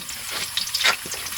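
Garlic fries in hot oil until golden brown, giving a steady close sizzle with soft crackles and pops over a brief moment and no talking.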